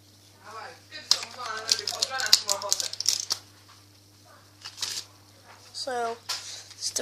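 Brand new deck of playing cards being shuffled in quick riffling bursts, with crisp flutters and clicks recurring through the clip while a person talks excitedly over and between them.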